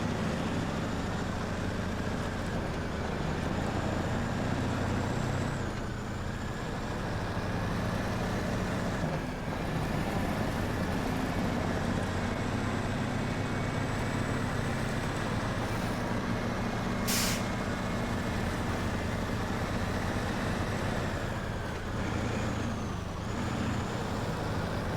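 Heavy truck in the off-road game SnowRunner grinding through mud on Drummond Island, a continuous low engine drone with steady loudness throughout, plus a brief airy hiss partway through.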